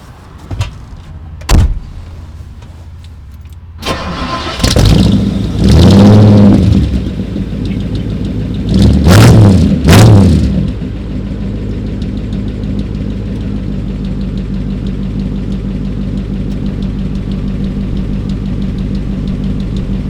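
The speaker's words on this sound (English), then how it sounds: "she's got a little louder pipes than it normally has. Which sounds great" A 1958 Ford Fairlane 500 Skyliner engine starts with a few clicks, then revs hard twice through louder-than-stock, throaty exhaust pipes before settling into a steady rumbling idle.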